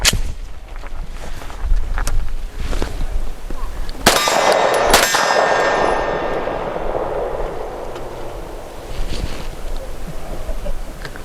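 Pistol shots from a Canik METE SFX striking steel targets outdoors, sharp loud reports with ringing metallic clangs, a cluster of hits midway and fainter pings scattered around them.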